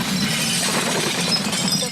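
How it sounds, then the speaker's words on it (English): A pickup truck smashes into a grocery store, a burst of shattering glass and crashing debris, loud and dense for under two seconds. "A pickup truck smashes into a grocery store"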